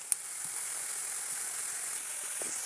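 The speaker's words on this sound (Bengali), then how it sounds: "তেলে পড়ে মশলা, চটপট শব্দে বলে যায় জিরে" Cumin, cardamom and cinnamon crackle in hot oil as a soft, even hiss with a few sparse pops, faint and close, with no talking.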